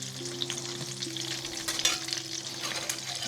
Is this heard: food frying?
yes